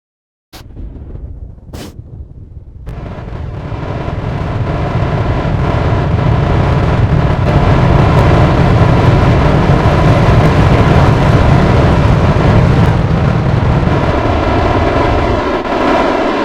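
A Falcon 9 first stage landing burn engine in Kerbal Space Program, a steady loud low roar that starts after a couple of brief thumps and holds for many seconds, broadband and rumbling throughout.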